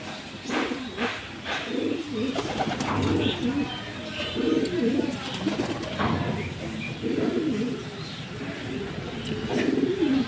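A 2019-ringed Johnson-line male racing pigeon and other birds coo repeatedly in a loft in Tangail, with soft, rhythmic coos close by over steady background noise.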